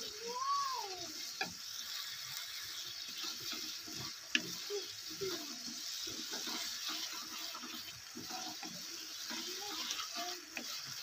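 Bhola fish sautés in a pan with salt, turmeric and mustard paste, giving a soft, steady sizzle with occasional stirring under a person talking.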